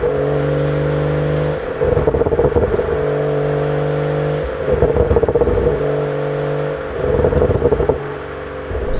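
BMW M240i (2018) exhaust rev sequence: steady idle drone broken by three loud revving bursts that rise and fall, alternating with settled idle, close and alone without talk.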